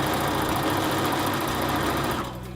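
Sewing machine stitching a quarter inch seam while chain piecing quilt squares, a steady fast loud whirring run that slows and stops near the end.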